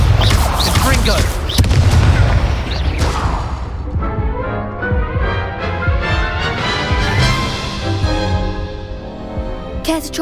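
Booming spell blasts and crashing impacts from a Harry Potter video game, a loud burst of explosive hits early on followed by a sustained rumbling, crackling wash, with a voice calling out spells over the top.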